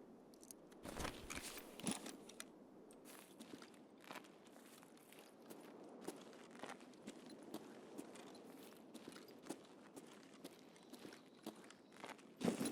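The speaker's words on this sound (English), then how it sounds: "Definitely heard footsteps" Footsteps in a sawmill area of a video game, a faint run of soft crunching steps with irregular rhythm over quiet background, ending in a slightly louder clatter.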